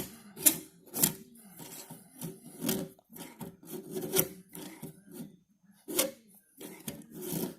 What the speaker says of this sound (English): I'm filing both stops at the same time, and I'm keeping my stops parallel to each other.